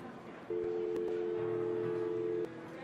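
A single steady telephone tone, likely from dialing a number, sounds alone for about two seconds at moderate loudness, with a low hum beneath it.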